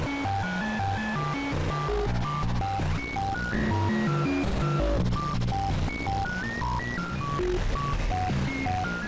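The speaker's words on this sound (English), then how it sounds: "by switching this mode input to the negative side, you start getting into the noise that the Kastle can make." Kastle 1.5 synthesizer in noise mode plays a close, loud run of rapid stepped bleeping tones that jump in pitch over a gritty noisy bed, continuing steadily throughout with no voices.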